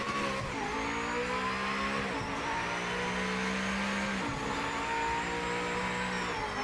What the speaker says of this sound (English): car sounds good though, huh?